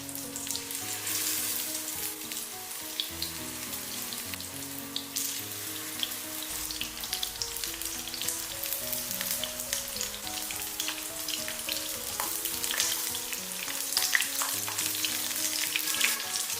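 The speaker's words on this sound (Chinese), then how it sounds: "再把冬瓜一片一片的给它夹入锅中，开中小火给它慢煎。" Winter melon slices fry slowly in cooking oil in a pan over medium-low heat, giving a steady, close crackling sizzle that lasts throughout, with soft tonal music running underneath.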